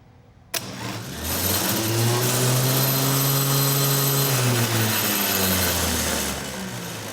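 A rebuilt car starter motor spins freely on a bench after power is bridged to the solenoid's starter post: a sharp click, then a loud, steady motor whine with a rising hum that holds for several seconds before winding down.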